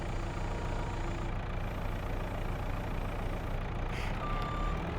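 Reversing beeps ring out from a truck backing out with a log trailer in Farming Simulator 22, a steady repeating tone over a constant low engine idle, fairly loud and close, with no talk.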